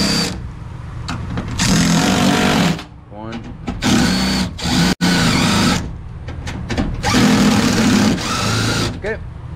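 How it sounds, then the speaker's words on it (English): Electric window motor in a 1999 Ford Ranger raising the glass during a regulator and motor replacement, a loud steady whir in several bursts of a few seconds each, with short pauses between them. "I'm gonna raise the window all the way up."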